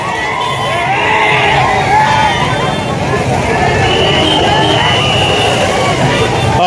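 A Maratha community crowd celebrates in Ambajogai with loud, continuous cheering, shouting and babble, close and dense throughout, with a steady roar of many voices and some street noise underneath.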